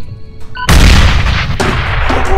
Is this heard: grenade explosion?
yes